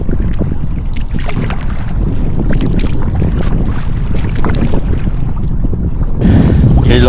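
A kayak is paddled on open water near Helsinki, Finland, with rhythmic splashes and strokes alternating side to side, loud and close over wind noise on the microphone.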